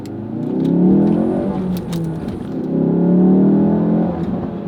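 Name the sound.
Ford Focus RS accelerating hard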